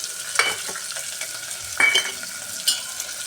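Capsicum, carrot, potato and peas fry in oil in a pan, a soft steady sizzle broken by a few scraping stirs, close and moderately loud, with no talking.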